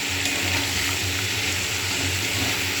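Crab pieces fry in oil in a wok, giving a steady, dense sizzle with a low bubbling undertone that holds throughout at close range. No voices are heard.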